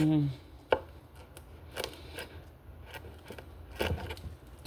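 A kitchen knife chopping on a cutting board while making fish and rice porridge: a handful of sharp, irregular chops close by, with quiet gaps between strikes.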